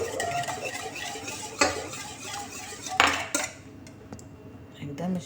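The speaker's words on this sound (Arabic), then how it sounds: "راح نخلط، نجيب الحليب تاعي اللي كنت دفيته" Flour and yeast being stirred together with warmed milk for homemade bread: close spoon scraping and clinking against a bowl, with a couple of sharper knocks, then a quieter stretch.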